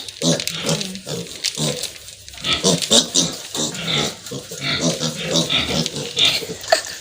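Piglets grunting and oinking close by while they eat a feed mixed with raw banana, a busy chorus of grunts with a person talking over them.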